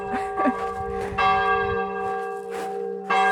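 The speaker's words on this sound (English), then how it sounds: "This church is really enjoying 12 o'clock. It's been chiming now for 5 minutes." Church bell in France chiming noon, striking one bell at a time; sustained ringing tones with overlapping strikes and fading decays, fairly close and loud.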